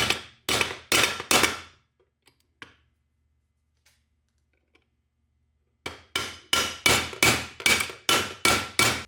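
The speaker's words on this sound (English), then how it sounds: "I'll put a new dowel pin and drive that pin through here." Dowel pin driven into a T5 transmission with a hammer: a quick burst of about four sharp metallic blows, a quiet pause with faint taps, then a steady run of about eight more strikes, loud and close.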